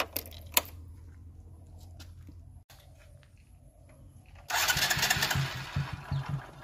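A motorcycle is kicked and struggles to start, giving faint sputters and clatter, then catches and runs with a louder rough, throbbing engine note for the last couple of seconds.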